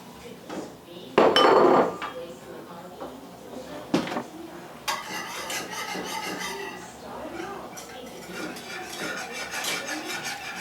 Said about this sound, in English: You got to give this a nice stir, get everything incorporated, let the cornstarch cook.